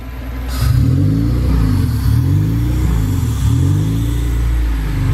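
K24-swapped Honda Civic wagon engine running close by, a steady loud idle that rises and falls in slow, repeated surges as the revs hunt up and down.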